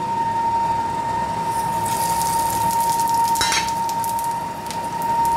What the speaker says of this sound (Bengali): এবার ফোড়নে দেবো শুকনো লঙ্কা আর 5 ফোড়ন